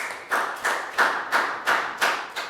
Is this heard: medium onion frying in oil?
no